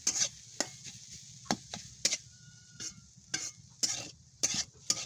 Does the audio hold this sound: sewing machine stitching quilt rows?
no